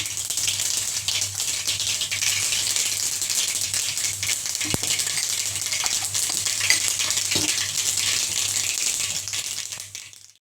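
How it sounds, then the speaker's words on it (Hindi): Continuous crackling sizzle of mustard seeds spattering in hot oil, close and steady throughout, with a low hum underneath. "तो मेरा तेल गरम हो चुका है, उसमें मैं राई डालूंगी।"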